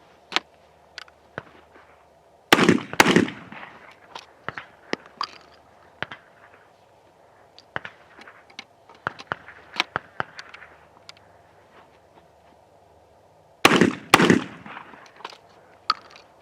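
Sharp shots from a Cimarron 1878 double-barrel shotgun, heard as two close, loud pairs near the start and end. Scattered fainter clicks and taps from handling and reloading fill the quiet stretch between them.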